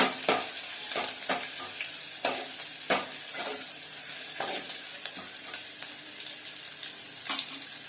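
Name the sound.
onion and curry leaves frying and stirred in pan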